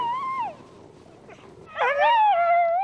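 Sled dogs whimper and yip in a team, with long wavering high-pitched whines that rise and fall, one drawn-out cry early and a louder sustained yelping whine later, fairly close.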